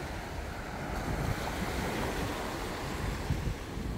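Ocean waves wash onto Praia Central beach in Itapema, Santa Catarina, a steady, fairly soft roar of surf with wind buffeting the microphone throughout, no voices.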